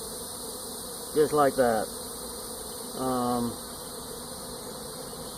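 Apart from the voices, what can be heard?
honey bees while moving a nuc into a hive box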